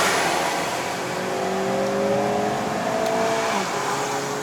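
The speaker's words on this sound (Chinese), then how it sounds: "感觉好像听到 VTEC 声，有没有" Honda Civic FB 2.0S engine pulling hard uphill, a steady drone with rising harmonic tones as revs climb under acceleration, heard from inside the cabin against constant road and wind noise.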